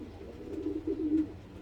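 Racing pigeons coo in a loft with soft, low, throaty rolls that rise and fall over about a second and a half. The sound is close and clear, with no talking.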